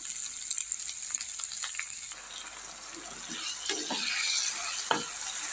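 Onions fry in a pan for chicken curry, giving a steady close sizzle with a few sharp utensil taps early on and a louder surge of frying toward the end.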